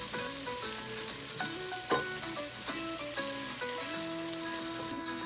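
Shrimp and vegetable filling for lumpiang sariwa sautéing in a pan, a steady close sizzle with a brief clatter near the two-second mark, while background music plays throughout.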